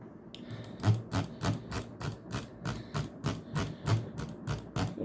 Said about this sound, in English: you can hear a lot of clicks